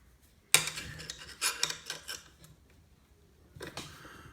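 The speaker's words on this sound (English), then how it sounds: "just get an 8mm opening wrench and just lock that buddy down." An 8mm open-end wrench locks down a droop screw on a Losi 5ive T RC truck, giving a sharp metallic clink followed by several scraping, rasping metal-on-metal strokes, then another brief clatter near the end.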